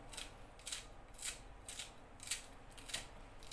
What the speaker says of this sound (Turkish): Maydanozun yarısını doğrayacağım içine.